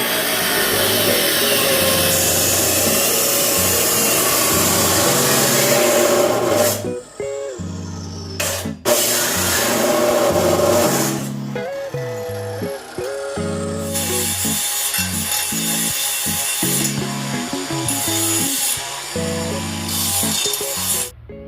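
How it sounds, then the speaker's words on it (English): A U-shaped exhaust pipe for a 1967 Impala is cut with a saw, a loud continuous rasping that runs for several seconds, then breaks into stop-start strokes with brief pauses. "probably one of them U-shaped ones and kind of saw it off"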